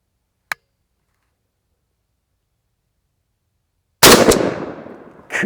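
A shotgun loaded with 00 buckshot fires through a Trulock Boar Blaster choke tube, giving one loud, close blast that booms and decays over about a second. A faint click comes earlier in the quiet, and another sharp sound is heard at the end.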